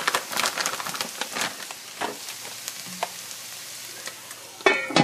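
Low-carb hash browns topped with cheddar sizzle and crackle quietly in a pan, with scattered pops and a louder clatter near the end.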